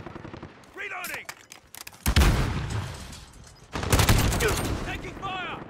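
Gunfire in Call of Duty Modern Warfare, bursts of rapid automatic shots and heavy blasts amid battle noise, with shouted voices mixed in.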